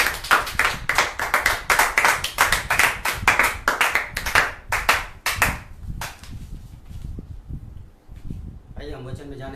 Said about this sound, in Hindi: आइए हम जोरदार ताली